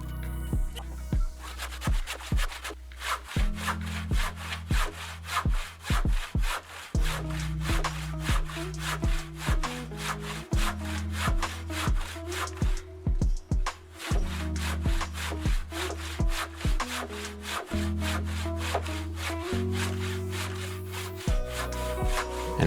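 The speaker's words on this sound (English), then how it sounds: "I turn the beam and continue sawing in the same way on the other surfaces." A hand saw cutting through a wooden beam, steady back-and-forth rasping strokes in a regular rhythm, loud and close, briefly pausing midway before resuming.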